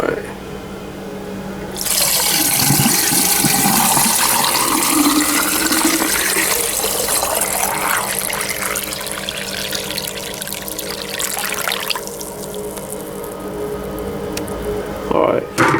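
Water pours steadily into an HHO reactor torch attachment, a loud, continuous rushing fill that holds for most of the stretch after a brief quiet start.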